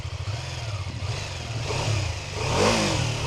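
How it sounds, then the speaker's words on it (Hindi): BMW F450 GS motorcycle idling with a pulsing exhaust beat, then revved up once to a louder, rising roar before settling, heard close and alone without talk. "और साइड में फिर यहाँ पे ये एग्जॉस्ट है। आवाज़ सुनाऊँ मैं आपको?"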